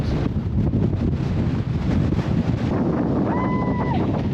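Strong wind in Iceland buffets the microphone in a constant heavy roar, with a faint tonal whine near the end.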